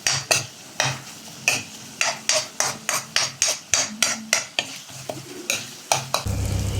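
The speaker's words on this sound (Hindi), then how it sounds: "अब इसको कर लेना है बढ़िया से फ्राई" A spatula stirs and scrapes masala with red chili powder as it fries in a pan for egg curry. About fifteen sharp, rhythmic metallic strokes sound over a low sizzle, ending in a steadier fry.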